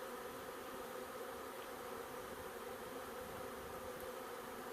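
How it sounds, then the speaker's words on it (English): A dense swarm of bees hums steadily around a 10-frame swarm trap, a continuous, even buzzing that fills the whole stretch without pause or voices. "that's a lot of bees"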